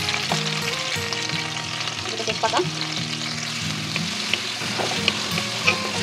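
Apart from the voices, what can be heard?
onions frying in oil in a wok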